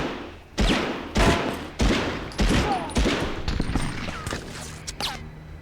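Video game gunfire from Medal of Honor, a fast string of loud rifle and machine-gun shots with heavy thuds and impacts in the mix, about five strong bursts then a continuing rattle.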